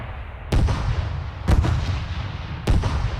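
Space fleet bombardment in the StarDrive strategy game, three loud, deep booming blasts at uneven intervals, each followed by a rumbling tail, with no talk.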